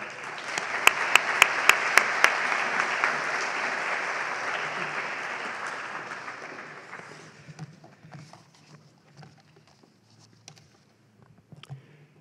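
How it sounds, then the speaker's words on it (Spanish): Audience applause at a libertarian festival debate on pensions, a loud, dense clapping for a speaker taking the lectern that fades out over several seconds into scattered claps and quiet. "un muy fuerte aplauso por Juan Pina"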